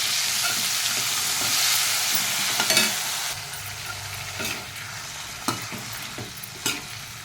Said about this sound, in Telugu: బంగాళదుంప చిన్న చిన్న కట్ చేసుకున్నాను ఫ్రై చేస్తున్నాను